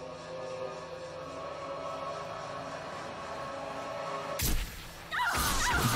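A giant glass shard shatters in the survival horror game Haunting Ground, a sudden loud crash with a bright burst of breaking glass after a stretch of low ambient drone, followed by scattered tinkling debris.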